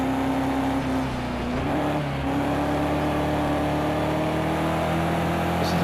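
A BMW M6 GT3 race car at Brands Hatch in Project Cars 2 roars loudly under steady load, its engine drone holding high revs with a brief dip and whirring climb, no talking.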